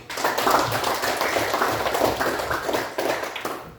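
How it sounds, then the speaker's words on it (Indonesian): Students in a classroom clap together, a dense and even patter of hands that holds steady for several seconds before easing off at the end. "Tepuk tangan untuk kita semua."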